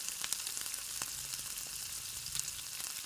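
Jackfruit pieces frying in hot oil with mustard seeds and curry leaves, a steady soft sizzle with scattered crackles and pops, close and alone.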